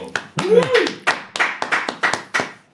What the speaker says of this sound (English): You like that clapping?